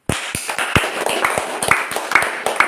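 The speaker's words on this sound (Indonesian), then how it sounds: "Tepuk tangan" Scattered hand claps from a small audience at a live religious talk on a campus in Bandung, irregular sharp slaps spread across the moment, fairly close and unaccompanied by voices.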